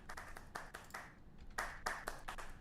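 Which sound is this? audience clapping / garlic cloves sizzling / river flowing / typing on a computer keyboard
audience clapping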